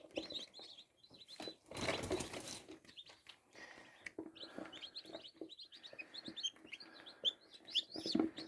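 Soft, high chirps and peeps from newly hatched chicks, including Chinese Silkie chicks, come in scattered bursts, with a few lower clucks and a brief rustling noise in between.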